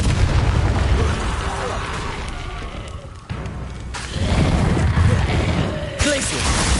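Booming magical blasts and crackling bursts from the Confringo fire spell in a PS5 wizarding-school game, loud and layered over game noise, with a short dip before the rumble surges again.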